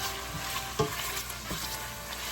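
Bacon sizzles and crackles in a pan with onions, garlic and celery for a clam chowder, a steady broadband frying hiss with a few sharp pops and stirring scrapes, close and moderately loud, with no voices.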